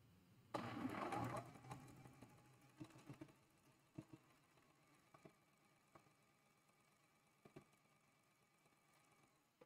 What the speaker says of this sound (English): My sewing machine, y'all.